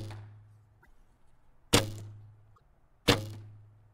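A cheap bow still fitted with its stock string is shot twice, each release a sharp, close thwack that rings briefly and fades, with quiet between the shots.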